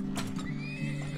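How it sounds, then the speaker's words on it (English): Horse neighing in the video game Turmoil, a single whinny over a steady low game hum, with clip-clop hoofbeats mixed in. "We'll get another horse."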